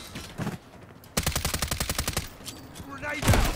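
Rapid automatic gunfire in the Call of Duty: Modern Warfare III video game rattles off in a fast, loud burst of a dozen or so shots, with brief speech before and after.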